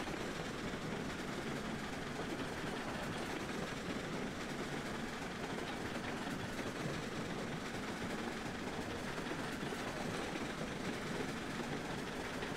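Steam trains run steadily in Railroads Online, a continuous broadband rumble with rail clatter and engine noise, close and even throughout, with no voices.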